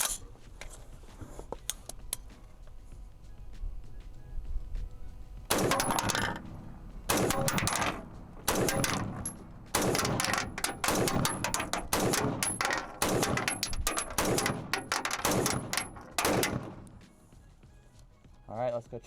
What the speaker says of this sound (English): first couple shots here with the IWI Zion-15